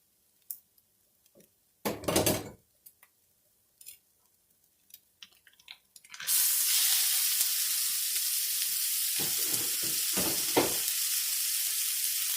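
After a few scattered clatters and taps, hamburger meat and onions hit a hot skillet and a loud, steady, close sizzle takes over and holds.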